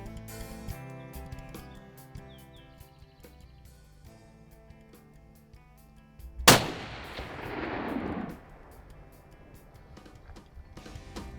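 A single loud hunting rifle shot rings out in the middle, sharp and sudden, followed by a rolling echo that fades over a couple of seconds against quiet background music.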